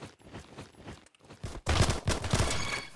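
Burst of MP40 submachine gun fire in the Roblox shooter Bad Business, a loud sustained rattle of rapid shots following quieter scattered footsteps and clicks.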